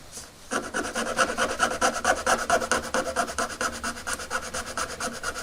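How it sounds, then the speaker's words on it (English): A hand file rasps back and forth on a small vintage R2-D2 toy replacement sensorscope part, close and steady with quick rhythmic strokes after a brief quiet start. "then I'm going to slightly file this down"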